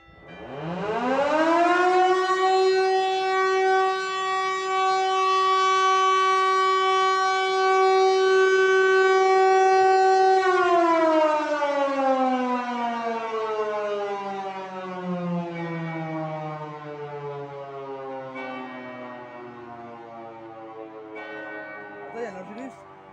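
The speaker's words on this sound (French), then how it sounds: "Tu sais c'est combien de décibels une sirène?" Civil defense siren tested at noon from the church in Nogent-sur-Seine, a loud steady wail that holds for about ten seconds, then slowly winds down in pitch, heard alone without talk.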